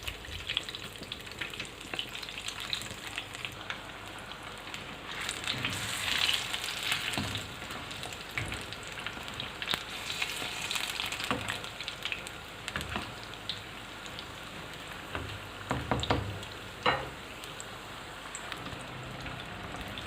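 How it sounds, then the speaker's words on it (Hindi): Gram-flour-coated eggs fry in a pan for egg masala, a long steady crackle and spatter like light rain, with scattered louder pops and a few utensil knocks. "अंडे जो हैं वो अच्छी तरह से फ्राई हो चुके हैं।"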